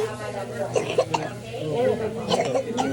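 Several short coughs break through over a noisy room with people talking, some bursts sharp and close, others softer.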